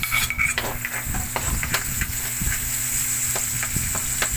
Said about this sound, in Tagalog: ituloy lang natin ang ating pagigisa guys ayan mabango na